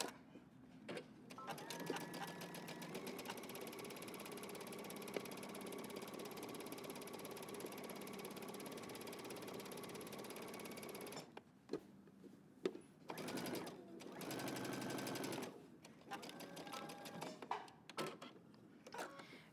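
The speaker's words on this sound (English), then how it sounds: "Now we're going to sew around our pocket." A sewing machine stitches around a garment pocket for a Simplicity pattern, running steadily for about eleven seconds, then stopping and starting in short bursts with mechanical clicks between runs.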